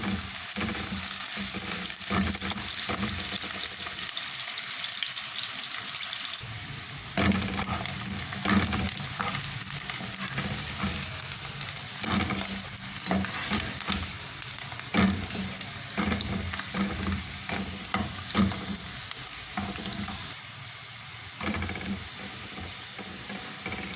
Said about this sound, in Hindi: इसमें एक दरमियाने साइज़ की प्याज है जिसको स्लाइसिस में काटा है, वो शामिल कर देंगे और इसको हल्का सुनहरा फ्राई करेंगे।